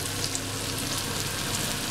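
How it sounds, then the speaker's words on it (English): Mushrooms and onion pan frying, a steady close sizzle that holds evenly throughout with no talking. "I'm just pan frying them a little bit with some onion."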